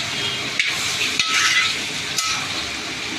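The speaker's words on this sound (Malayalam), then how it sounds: "നല്ലോണം ഇളക്കി ഒന്ന് മിക്സ് ചെയ്ത് കൊടുക്കും" Ivy gourd stir-fry being stirred with salt in a large restaurant-style batch of about 4 kg, steady loud sizzling frying with scraping strokes of the spoon against the pan at a few regular points.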